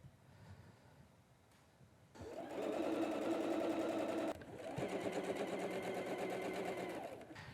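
A sewing machine runs steadily, stitching rows of quilt blocks together with sashing and cornerstones, in two loud sustained bursts separated by a short pause after a quiet start.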